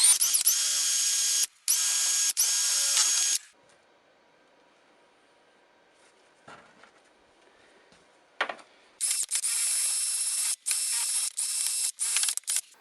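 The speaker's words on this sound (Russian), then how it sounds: "С помощью шуруповерта полностью высверливаю оставшуюся древесину в молотке." A cordless screwdriver bores out leftover old wood from inside a hammer head: two whining bursts of drilling, a quiet pause with faint handling, then further on-and-off bursts, close and loud.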